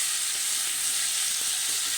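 Vegetables, including pumpkin and potato, frying in a pan on a home kitchen stove, giving a steady, close, even sizzle that holds without a break throughout.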